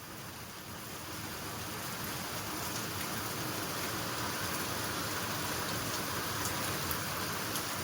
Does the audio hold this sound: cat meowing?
no